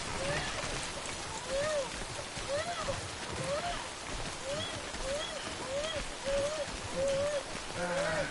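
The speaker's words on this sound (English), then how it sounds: "And it's raining and it won't fucking stop" Steady rainfall in the video game Death Stranding, a continuous wash of rain hitting surfaces, moderately loud, with a repeating rising-falling tonal chirp over it and no speech.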